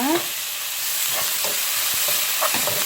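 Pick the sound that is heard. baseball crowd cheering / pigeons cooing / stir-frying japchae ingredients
stir-frying japchae ingredients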